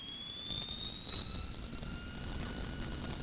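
A turbocharged light aircraft engine roars at full takeoff throttle, a steady loud drone with a rising high whine that climbs gradually, heard from inside the cockpit with no talk.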